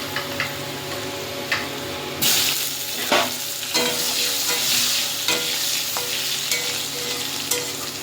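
Potatoes and eggplant fry in the same oil just used for frying fish, a continuous bright sizzle with periodic scrapes and ticks of a spatula stirring the pan, close and steady throughout.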